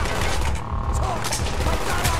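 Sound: gunfire in the video game Call of Duty Black Ops

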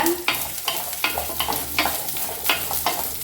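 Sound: shallots and coconut frying in pan for chicken curry

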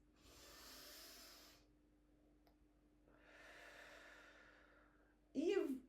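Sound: breathing in through the nose

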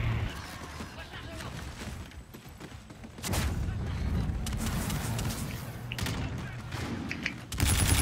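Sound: NV4 gunfire in a video game

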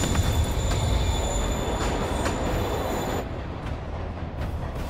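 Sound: train moving, from a video game

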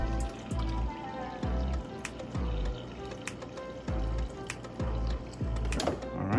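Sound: refrigerator dispenser filling glass with water

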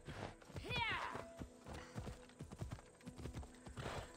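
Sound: horse hooves in Assassin's Creed Odyssey video game

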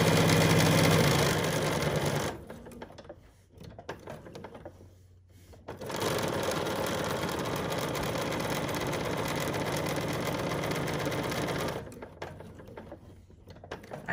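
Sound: Bernina 790 Plus sewing machine stitching fabric

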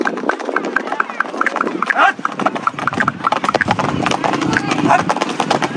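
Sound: mare's hooves clip-clopping as it is ridden

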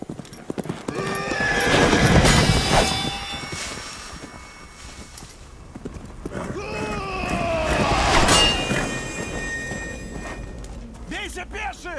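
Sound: horse neighing and hooves clopping

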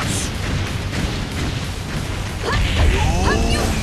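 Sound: volcano eruption attack explosion in One Piece Pirate Warriors video game

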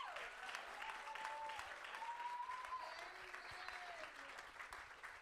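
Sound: congregation clapping

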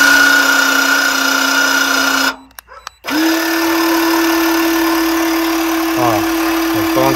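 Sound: car jack being lowered

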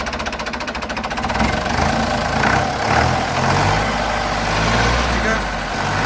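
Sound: tractor diesel engine knocking while running

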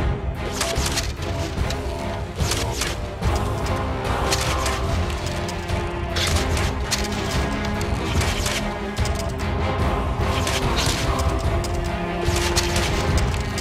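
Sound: grenade arrows exploding in video game Enclave

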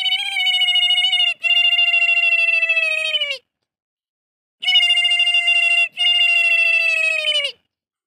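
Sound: human voice imitating a kingfisher call near water

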